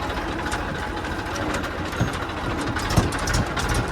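A tractor engine rumbles as the tractor drives into a river, a dense, continuous mechanical drone with a few dull knocks, close and steady throughout.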